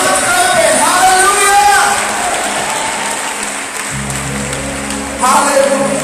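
A church congregation claps loudly and continuously at a revival meeting in Liberia, dense close applause with a voice shouting over it and music in the background.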